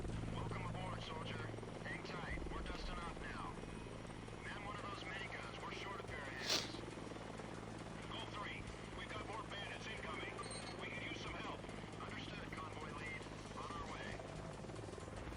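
A helicopter in the video game Delta Force: Black Hawk Down drones with a steady rotor thrum and engine whine throughout, while someone talks over it and a brief sharp click pops up midway.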